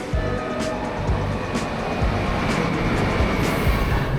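A RegioJet train on the Warsaw service in Poland makes a steady, loud rumble with repeated rhythmic clicks and thumps, heard up close and continuous throughout, with no talk.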